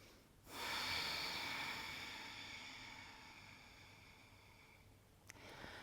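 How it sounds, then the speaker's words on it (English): A single deep breath drawn in during a morning yoga session, a long, airy inhale and exhale close to the microphone that fades slowly over several seconds. "One more deep breath here."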